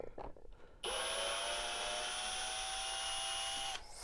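A power screwdriver backs screws out of a vacuum cleaner's brush housing, giving one steady, close whir of about three seconds that starts and stops abruptly.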